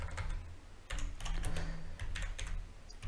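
Computer keyboard typing: quick bursts of light clicking keystrokes with short pauses between runs, close and clear, with no talking.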